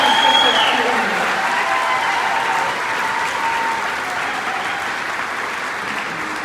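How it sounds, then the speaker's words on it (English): A charity gala audience for sick kids applauds its 2024 honorees with loud, dense, continuous clapping that fills the hall, a few cheers rising early before the sound settles into a steady roar. "Please join me in applauding our 2024"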